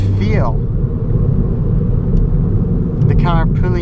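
A 2019 MK8 Ford Fiesta ST driven hard on twisty B-roads gives a steady, loud engine and road drone throughout, with brief voices speaking near the start and end.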